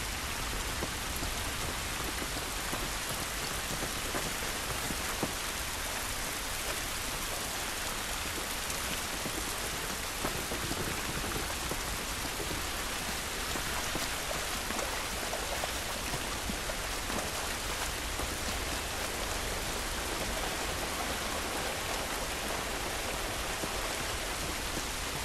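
Heavy rain falls steadily outdoors in The Last of Us video game, a dense, even hiss of drops on surfaces that continues unbroken throughout with no speech.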